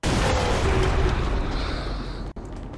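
A video game explosion in XCOM 2: War of the Chosen erupts as a loud, broad rumbling burst that decays over a couple of seconds and ends with a sharp cutoff.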